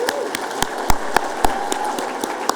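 Scattered claps from an audience at an annual scholarship celebration honoring scholars, a few distinct, fairly loud hand claps spaced irregularly over a low room murmur.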